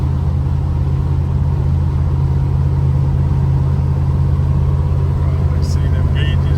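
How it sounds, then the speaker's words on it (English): A 1974 Dodge Dart with dual exhaust idles steadily nearby, giving a constant low rumble for the whole stretch and a brief faint higher sound near the end. "Got good sounding dual exhaust."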